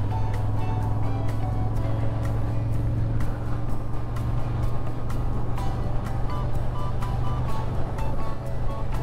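A Moto Guzzi Griso motorcycle engine drones steadily and loudly throughout a cold-weather ride, with a constant low hum mixed with wind rush.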